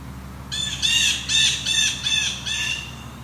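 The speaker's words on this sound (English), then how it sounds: "That's their typical jay call." A series of five harsh, nasal blue jay calls in quick succession, fairly loud and close, over a faint low background hum.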